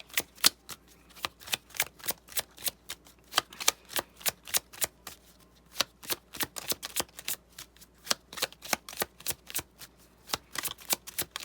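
Tarot cards are shuffled in a fast, regular series of crisp slaps and flicks, dozens of quick taps in a steady rhythm, no voices.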